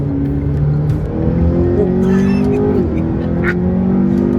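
A 2012 McLaren 12C Coupe with 22,000 miles runs at high speed on a track toward a fast right-hander. Its engine holds a loud, steady drone with a brief pitch shift partway through, and the note stays close and continuous.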